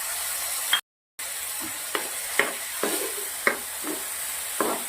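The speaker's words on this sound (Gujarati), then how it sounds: "આપણે 1 મોટું ટામેટું પીસી રાખ્યું છે એ નાખું છું" Pureed tomato going into onions sautéing with ginger-garlic paste in a pan, with a steady loud sizzle and repeated clinks and scrapes of stirring.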